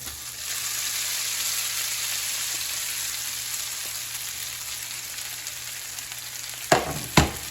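Cooked hibachi noodles sizzle steadily in a pan with butter and garlic, an even close frying hiss throughout, ending with two sharp clinks of a utensil against the pan.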